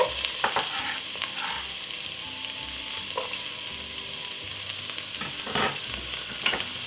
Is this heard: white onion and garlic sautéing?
yes